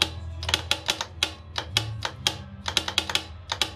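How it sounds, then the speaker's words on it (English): Sharp, irregular mechanical clicks repeat rapidly, close and distinct, from a faulty starter motor solenoid snapping on and off on a Toyota Hilux with a 1KZ engine. "So the starter motor solenoid is definitely thrown out. You can hear it clicking"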